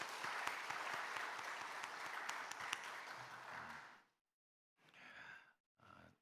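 A church congregation applauding during a Korean worship service: dense, sustained clapping for about four seconds that then cuts out, followed by a couple of short bursts of breathy murmur or voice.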